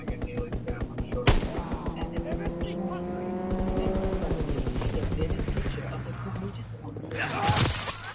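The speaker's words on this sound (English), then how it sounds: "Enemy strafing run inbound" Enemy aircraft strafing a position in a PS4 shooter, rapid machine-gun bursts with a rising and falling engine-like drone as the plane sweeps past, under other battle noise.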